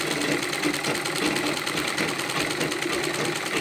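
A tailoring sewing machine stitches a straight seam, a fast, even, close mechanical chatter running steadily throughout without any speech.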